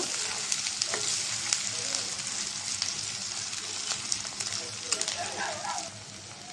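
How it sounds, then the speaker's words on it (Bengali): Shrimp frying in a pan give a close, steady sizzle with crackling spatters and a few stirring scrapes, while a voice speaks faintly in the background. "তো চিংড়ি মাছটা ভাজা হয়েছে হালকা করে।"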